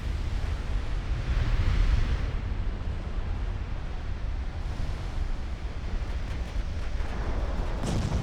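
Warship gunfire in the naval strategy game Ultimate Admiral: Dreadnoughts, heard as a constant low rumbling roar of distant naval guns, with broad booming swells and surf-like wash and no speech.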